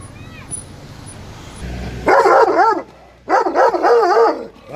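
A Caucasian shepherd dog barks aggressively, close and loud, in two fierce bursts of rapid barks separated by a brief pause.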